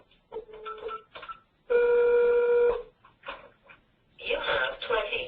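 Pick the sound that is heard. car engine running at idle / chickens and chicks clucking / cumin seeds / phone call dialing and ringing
phone call dialing and ringing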